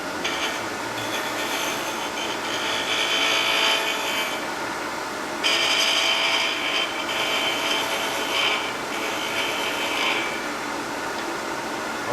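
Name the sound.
gouge cutting wood on a lathe, turning an owl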